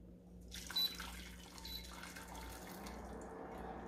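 Water, about 400 ml, is poured into a pot as the base for Korean soybean paste stew (doenjang jjigae). It makes a soft, steady trickle and splash close by, with no talking.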